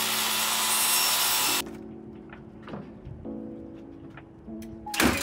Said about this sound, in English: I then cut out some pieces using the scrap leftovers to fill in the gaps